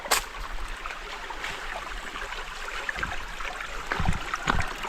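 A forest river stream flowing steadily, a continuous broadband rush of water near the listener with a few brief knocks and splashes toward the end.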